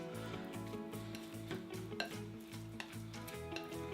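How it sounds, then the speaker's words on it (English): Steak tartare ingredients being stirred in a bowl, a rhythmic scraping and mixing repeating steadily up close, alone with no talking. "you want to give it a little mix"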